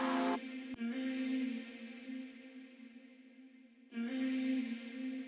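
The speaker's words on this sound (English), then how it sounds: "This atmosphere sound, which is just a bit of a vocal cut up with loads of reverb on it." A sustained, washed-out vocal tone from a cut-up vocal sample under heavy reverb rings with long reverb tails, fading softer in the middle before swelling back, steady and atmospheric without words.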